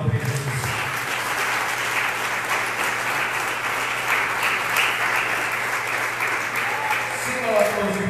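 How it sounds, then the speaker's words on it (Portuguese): A church congregation claps together to exalt Jesus, a dense, steady wash of applause that holds close and loud for several seconds without a break. "As palmas que exaltam Jesus."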